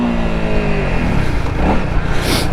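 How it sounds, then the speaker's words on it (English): A Honda CRF300L Rally dirt bike revs hard in first gear for a wheelie in an urban off-road setting, its loud, close engine note rising and then falling away within a few seconds. "Here's some little first gear wheelie."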